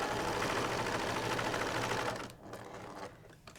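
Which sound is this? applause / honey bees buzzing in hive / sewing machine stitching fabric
sewing machine stitching fabric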